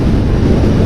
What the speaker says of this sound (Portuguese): Esse vento de 60 km por hora aqui de través está bem 90 graus aqui.